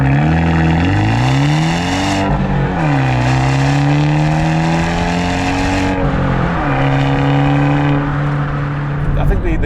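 Abarth 124 GT small sports car engine revving loudly and continuously up close, its throaty, rising and falling note sweeping through repeated gear changes across the whole stretch.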